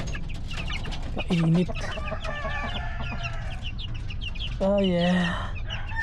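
Chickens cluck and squawk nearby, with a couple of louder calls standing out over a low background hum, and a person speaks briefly.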